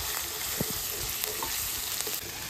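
A ginger, garlic and onion paste fries in a hot pan with a loud, constant sizzle, punctuated by soft scraping stir strokes, close up and without talk.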